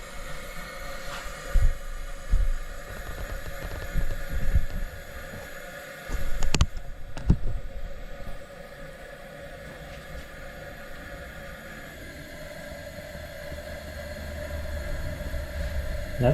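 Vintage Preway camp stove burning, a steady roaring hiss with a low rumble that holds throughout, broken by a few brief clicks and bumps near the start.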